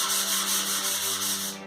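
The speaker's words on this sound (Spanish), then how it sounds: "acá tengo una lija. No sé si se alcanza a ver. Vamos a ver. Se le da una pasadita." Sandpaper rubbed by hand over body filler on a Honda CB 750 motorcycle, giving a steady, close, loud scratchy hiss with a faint back-and-forth pulsing that fades at the end.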